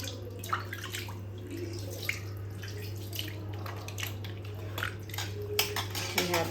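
Gas stove parts being washed by hand at a sink, with clinking metal and splashing, running water over a steady low hum, the clatter coming in irregular bursts.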